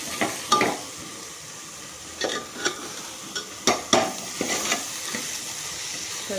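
Chicken gravy masala stirred in a pan: repeated scraping strokes of a spoon over a steady sizzle, close and moderately loud, in irregular bursts every second or so.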